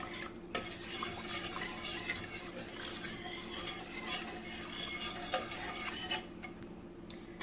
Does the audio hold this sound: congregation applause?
no